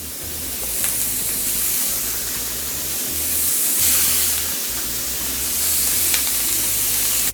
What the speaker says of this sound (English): I'm going to put the cheese into the pan so it has full contact with the heat